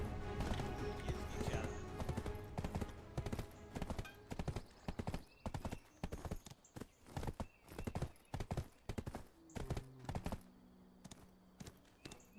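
Horse hooves clip-clop steadily in a video game, a run of sharp, loud hoofbeats with a brief neigh early on and faint music or ambience underneath.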